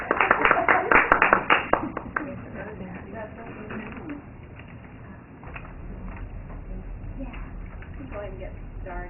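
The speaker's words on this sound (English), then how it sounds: "Would you give them all a round of applause?" An audience at an internship presentation gives a brief round of applause, with close, scattered clapping for about two seconds before it fades and a speaker's voice continues.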